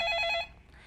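A telephone rings with an incoming call, a short bright electronic trill that stops after about half a second and leaves quiet room tone.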